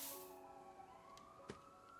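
Emergency vehicle sirens wail faintly outside, a steady rising tone in the distance beneath a quiet indoor room tone, with no voices.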